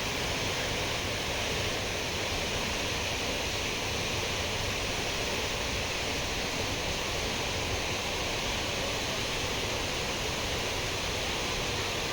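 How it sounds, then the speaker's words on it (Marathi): A river flows beside the Loteshwar temple, which stands on a rock by the bank. The water rushes in a dense, even roar that holds steady throughout, with no voices over it. "सगळ्या पाण्याचा आवाज येतो बघा"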